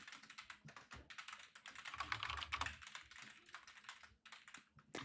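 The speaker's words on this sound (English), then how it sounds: "Guys, deal with the fact that you're gonna hear heavy typing." Heavy, rapid typing on a computer keyboard, dense clattering keystrokes running continuously and close up, with no talking.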